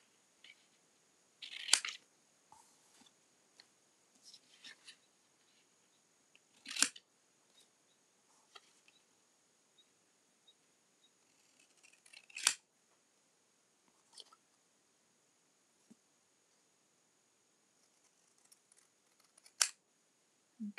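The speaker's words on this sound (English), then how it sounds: "So I'm just going to snip that out." Scissors snip paper for a handmade card, a handful of sharp, separate cuts spaced apart in an otherwise quiet room.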